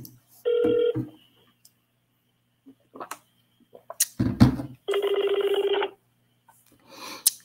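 A telephone ringing during an outgoing call, heard as two separate electronic ring bursts, each about a second long, with quiet gaps and a few faint clicks and handling noises in between.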